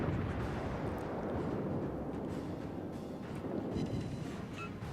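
Naval gunfire lands on a battleship in World of Warships. It comes as a continuous, distant rumble of heavy booms and blasts, moderately loud and dense throughout, with no voices.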